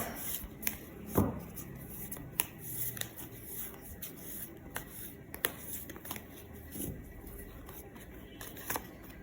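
Tarot cards are shuffled and drawn in a quiet room, giving soft, brief papery rustles and flicks scattered across the stretch, faint and close, with a low background hum.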